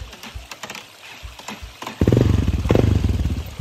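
A Yamaha Teneré motorcycle on a trail ride through water in Mato Grosso do Sul: light clatter at first, then the engine rises suddenly into a loud, close, pulsing growl that lasts to the end.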